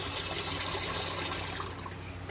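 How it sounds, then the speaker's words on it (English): Tap water running in a steady, loud rush of flowing water that eases slightly near the end. "turn the water off."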